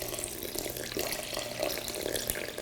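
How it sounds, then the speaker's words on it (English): About 315 grams of warm water poured into a large bowl of einkorn sourdough leaven, a steady close splashing gurgle with no talk, lasting a few seconds. "I'm going to mix in 315 grams of warm water."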